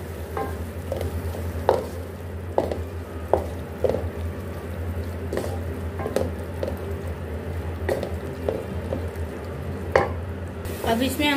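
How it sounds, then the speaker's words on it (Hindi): Afghani gandana leeks being fried and stirred in a pan, steady sizzle under repeated sharp scrapes and taps of the spoon, close and moderately loud. "चार मिनट हम इसको भून लेंगे"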